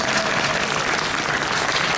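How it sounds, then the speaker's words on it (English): An audience at a fursuit exhibition during a furry convention applauds loudly and steadily, with dense, close clapping throughout. "Round of applause"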